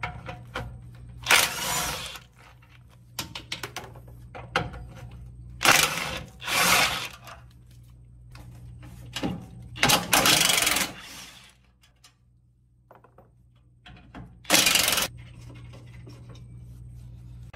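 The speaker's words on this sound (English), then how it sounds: "I'll be using a 12 millimeter socket to remove these bolts." A 12 mm socket ratchet loosens bolts on a third-generation Toyota Tacoma during a catalytic converter shield install. Short bursts of fast, close clicking come in several separate runs with pauses, over a low steady hum.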